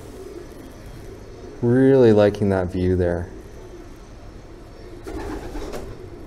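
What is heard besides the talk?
pigeons cooing in an abandoned high school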